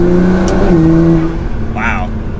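A Nissan GT-R R35 fitted with a Pedal Commander throttle controller revs hard, its engine tone climbing and then easing off with a turbo whoosh, recorded close from inside, with a voice speaking briefly near the end.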